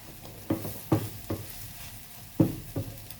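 Minced pork sautés in a pan, a quiet sizzle broken by several soft, irregular clanks and scrapes of a utensil stirring against the metal, close by and with no talking.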